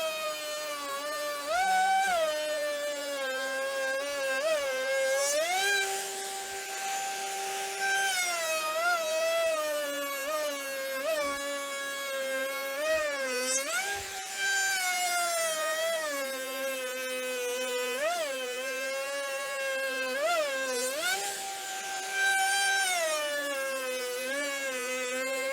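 A router fitted with a quarter-inch quad-bearing spiral bit whines at high pitch while trimming MDF subwoofer trim rings, its tone wavering and dipping as the cut loads, steady and close with faint knocks.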